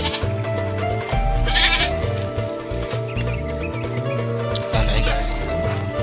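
A goat bleats a couple of times inside a Japanese cave, the cries rising over steady background noise while people talk nearby.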